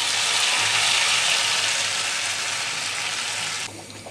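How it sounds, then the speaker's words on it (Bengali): Beef haleem hissing loudly as a baghar tempering with fried onions hits the pot, a dense steady sizzle that fades slightly and drops off near the end, with no one talking. "তো আমি এবার বাগারটা দিয়ে দিচ্ছি।"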